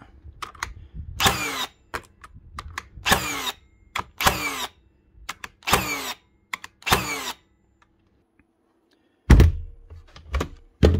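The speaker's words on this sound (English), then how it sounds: "It's definitely firing." A Hikoki NR1890DC cordless framing nail gun fires repeatedly, a series of about eight sharp loud cracking bangs spaced roughly a second apart with small clicks between, then a pause and two more shots, very close.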